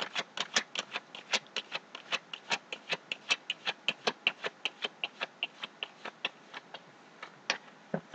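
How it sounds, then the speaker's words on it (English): Tarot cards are shuffled by hand, making a steady run of crisp, close clicks and soft slaps at a brisk, even pace for about eight seconds, with no talking. "I just have one more shuffle."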